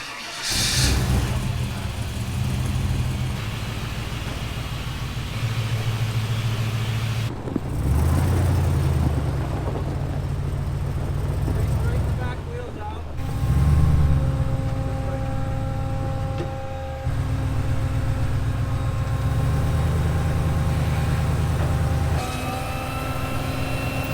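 The world's largest off-road wrecker truck rumbles loud and close, its engine holding a heavy low drone that revs up in several surges with brief drops between them.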